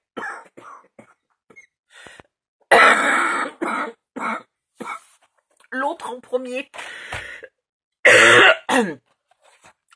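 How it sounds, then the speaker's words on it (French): Someone coughs in several harsh, close bursts between stretches of quiet speech. "Cette toux est vraiment... mais ça fait mal."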